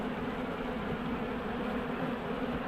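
Honey bees swarming around a Layens hive in an observation bee barn, a dense, steady buzz holding close and loud the whole time with no voices over it.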